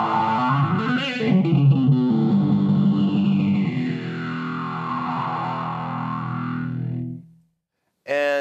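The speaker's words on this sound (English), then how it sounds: "that phaser that we just heard was a positive phaser" A guitar runs through the phaser of an Eventide ModFactor pedal, a slow sweeping whoosh gliding over sustained chords for about seven seconds, then silence and a brief new strum.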